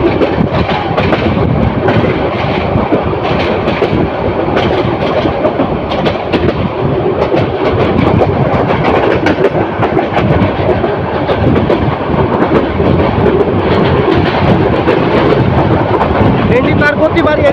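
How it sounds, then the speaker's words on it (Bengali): The Mohanagar Provati Express speeds through Tejgaon railway station with a loud, constant rumble and rhythmic clatter of wheels on rails that never lets up. "ট্রেনটি দ্রুত গতিতে তেজগাঁও রেল স্টেশন ক্রস করে যাচ্ছে"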